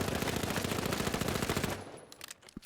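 Automatic weapon gunfire in the video game THE FINALS: a sustained rapid burst of loud, evenly spaced shots that stops abruptly, followed by a few faint clicks and thuds.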